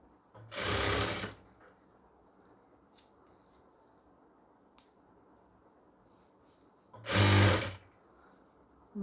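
Sewing machine stitching a pleated nightie, two short loud bursts of running stitches separated by a quiet pause with faint handling clicks.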